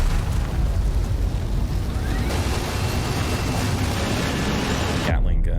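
A Gatling gun in Starfield fires as one heavy, continuous roar of rapid shots with booming low rumble, loud and sustained, then cuts off abruptly near the end.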